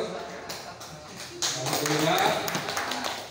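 Audience applause at a farewell gathering of the sub-district PKK women's committee, a dense patter of clapping that swells and grows louder partway through, with talking over it.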